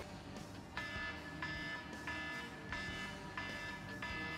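A repeating electronic alarm beeps in steady pulses about every half second, shrill and insistent over a low background hum.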